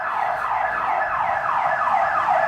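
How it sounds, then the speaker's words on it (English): An ambulance siren wails loudly and continuously, with its tone repeatedly sweeping up and down in a steady cycle and no voices over it. "Ambulance."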